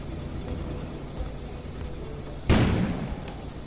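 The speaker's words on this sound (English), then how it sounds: "An explosion suddenly occurred outside." A sudden muffled explosion outside, a single low boom about two-thirds through that lingers briefly over a quiet room-tone background.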